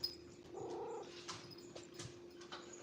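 A cat purrs softly and close by, a low steady rumble through a quiet room with a few small rustles and no talking.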